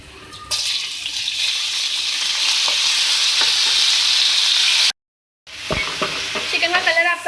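Chicken pieces hit hot oil with chopped garlic in a pan, bursting into a loud, steady sizzle and frying hiss, a brief cut of silence, then renewed sizzling with stirring clatter.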